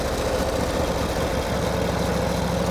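A 1949 Harley-Davidson Panhead enduro racer motorcycle warming up at idle, a continuous low, throbbing engine rumble close by with a steady, even pulse and no voices.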